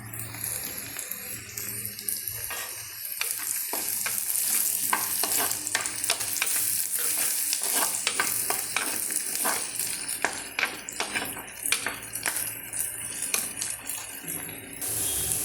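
Ginger frying with a pinch of salt in a pan for ginger curry, a loud steady sizzle broken by repeated rhythmic scrapes and taps of a spatula stirring close by.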